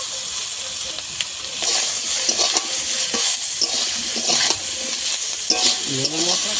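Chilli and salt are stirred into a khoira river fish dish with potato and aubergine in a hot pan, giving a steady close sizzle with repeated scraping strokes of a spatula.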